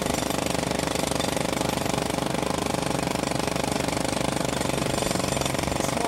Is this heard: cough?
no